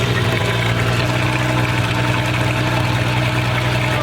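A rebuilt V6 MerCruiser ski boat engine, a truck engine swap, runs steadily just after its first start, a loud, continuous low idle with even mechanical rumble and no breaks.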